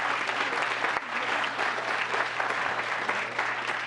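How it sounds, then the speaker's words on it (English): An audience at a town council meeting gives a big round of applause, dense, loud, continuous clapping that fills the entire stretch without a break. "Another big round of applause."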